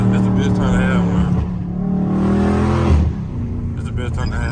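A Dodge Scat Pack rumbling along at night with the window down, its deep engine drone rising and shifting in pitch, close and loud, while someone talks over it.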